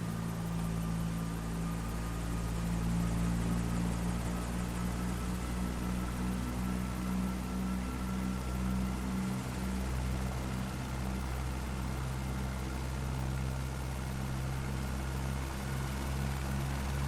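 In a flight video game, a helicopter's engine and rotor spin up as a steady low drone and rhythmic rotor thrum under a thin high tone, constant and moderately quiet for the whole stretch with no voices.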